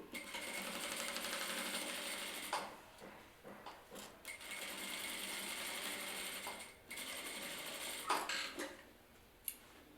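Sewing machine stitching a boning channel onto party or bridal dress fabric, fast rattling runs of stitches broken by short pauses and mechanical clicks, close and steady with no voices.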